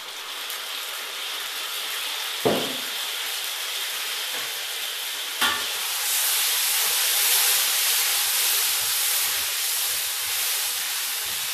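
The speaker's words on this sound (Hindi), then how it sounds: "इसको ज़रा अच्छी तरह हम भून लेंगे।" Garlic ginger paste frying in a pan while chicken and lentils are cooked, a steady loud sizzle and hiss throughout with a couple of brief clatters, no talking.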